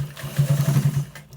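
A sewing machine stitches lace into a trouser waistband in a short, close burst of rapid, evenly spaced mechanical pulses that rise and then stop.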